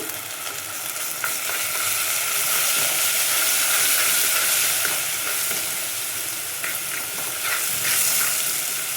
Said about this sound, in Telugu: ఒక్కసారి ఆ పచ్చి వాసన పోయేంత వరకు కలిపేసి తర్వాత పసుపు కూడా వేసుకున్నాము